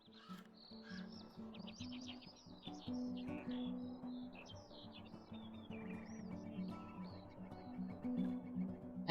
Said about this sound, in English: And now we have found the red-breast robin.